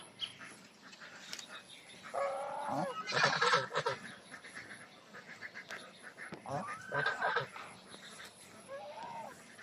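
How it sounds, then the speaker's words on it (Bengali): Geese honking near a rural farmyard, several loud harsh calls in two bursts with softer calls between, fairly close, with faint background noise. "এই রাজহাঁসগুলোর বাচ্চাগুলা বাড়িতে"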